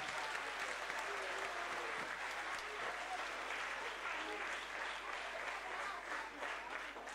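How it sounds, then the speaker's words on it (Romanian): A packed hall breaks into sustained, dense applause for the parents at a 2017 dance school gala, steady and loud from start to finish with no pauses. "Copii, haideți să aplaudăm părinții."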